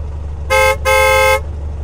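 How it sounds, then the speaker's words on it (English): A tow truck horn sounds two loud, bright honks, a short one followed by a longer one, against a low idling rumble. "Tow truck"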